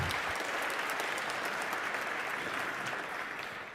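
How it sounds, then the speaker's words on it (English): Audience applause at a celebration of life marking an 86th birthday, a dense steady clapping from a room of people that carries on throughout and fades slightly at the very end. "Let's give it a round of applause."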